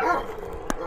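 A Turkish shepherd dog of the Aksaray Malaklı type gives a single short, close bark after a moment of low rumbling.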